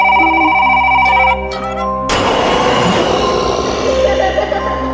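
A tonal phone ringtone sounds steadily in the Roblox game Brookhaven for about two seconds, then cuts to a louder, noisy burst of game sound.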